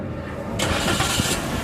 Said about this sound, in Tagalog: Patay mo makina tapos start.